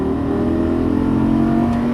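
A Lamborghini Gallardo Superleggera LP570-4 pulls hard down a track straightaway at Las Vegas, its engine a loud, sustained close-up roar that holds steady as it accelerates.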